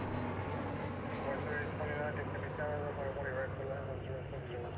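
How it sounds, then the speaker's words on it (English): An American Airlines Airbus A321 arriving at DFW Airport produces a steady, loud jet roar with a broad rumbling wash that holds throughout, and a voice talks over it. "It's an Airbus A321."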